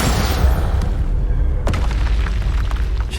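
A Confringo spell blast goes off in Hogwarts Legacy as a loud, deep boom that rumbles and tails off, followed by a sharp second burst and crackling debris, close and alone.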